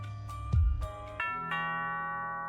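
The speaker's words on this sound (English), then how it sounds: "doorbell rings" Doorbell chimes from a judge-themed video game: a few bright struck tones, each one ringing on and layering into a sustained, clear ding-dong that fades slowly, with no voices.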